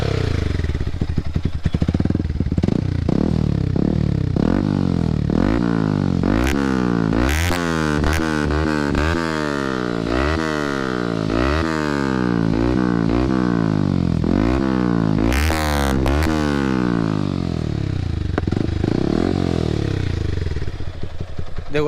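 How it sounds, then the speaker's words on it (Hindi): A Yamaha R15 V3 motorcycle fitted with an aftermarket exhaust starts up and runs close by. The throttle is blipped repeatedly, so the loud engine note rises and falls in quick waves over a steady idle. "चलो फिर अब बाइक स्टार्ट करते हैं, इसकी आपको साउंड सुना देते हैं कि इसकी साउंड कैसी है।"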